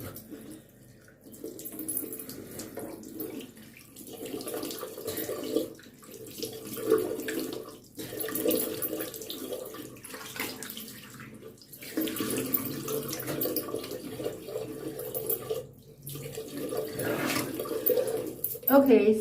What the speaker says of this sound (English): So we're gonna rinse it off.